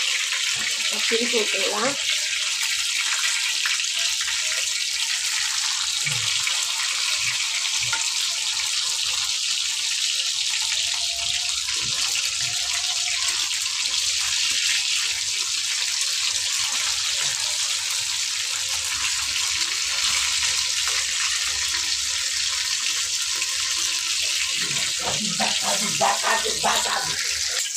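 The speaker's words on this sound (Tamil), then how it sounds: "நல்லா சிம்மில் வச்சு நம்ம வறுத்து எடுத்துருவோம்." Fish fries in a pan over a low flame with a steady, continuous sizzling hiss throughout, while a voice speaks now and then over it.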